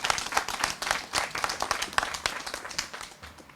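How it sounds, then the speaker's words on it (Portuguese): Audience applause at an official award ceremony honouring Cross of Merit nominees, a steady crowd clapping close by for several seconds with dense overlapping hand claps and no talk. "Forte aplauso para nós nominados."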